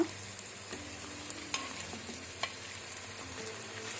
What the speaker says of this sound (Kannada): ನಾವೀಗ ಮೀಡಿಯಂ ಫ್ಲೇಮಲ್ಲಿ ಶುಂಠಿ ಬೆಳ್ಳುಳ್ಳಿ ಪೇಸ್ಟನ್ನು ಫ್ರೈ ಮಾಡ್ಕೊಳ್ಳುವ.